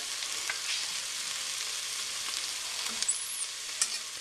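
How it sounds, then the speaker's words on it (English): Garlic cloves and onions frying in a pan for beef stew give a low, even sizzle with a couple of brief light clinks, heard alone without speech. "Okay, 2 cloves of garlic to the onions. How long have the onions been cooking? About 5 minutes."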